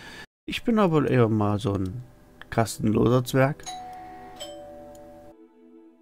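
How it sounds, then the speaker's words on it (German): A doorbell chimes in a home while someone talks over a game; a sustained ringing tone lingers under and after his voice, then cuts off abruptly. "Das war die Klingel."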